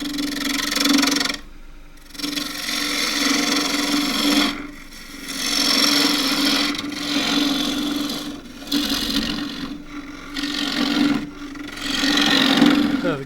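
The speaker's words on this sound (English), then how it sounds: "For that, I'll use the 1/2 inch deep fluted gouge." A 1/2-inch deep fluted gouge rough-turns a fiddleback-grain wood blank on a lathe. It makes a steady, loud rasping cut that stops briefly several times as the tool lifts away, with the lathe's hum running underneath.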